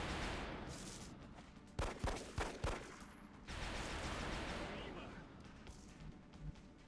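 A burst of gunfire in XCOM Long War, a rapid string of five or six sharp cracks, sits in the middle of a steady background hum, faint overall.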